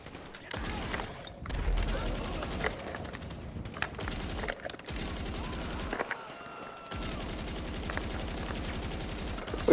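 Rapid bursts of automatic gunfire in GTA 5 Online survival mode, sustained volleys with brief pauses, loud and close, with occasional talk mixed in.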